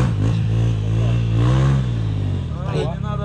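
A motorcycle engine revs up and down close by, a loud throbbing growl that climbs and falls, with voices over it.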